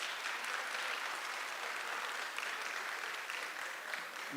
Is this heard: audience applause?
yes